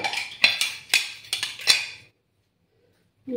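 A metal lid is set onto a pressure cooker used for baking a homemade cake, several close clinks and clatters over about two seconds, then quiet.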